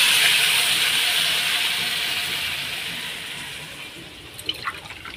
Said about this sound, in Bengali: এই জল আমি দিয়ে দিলাম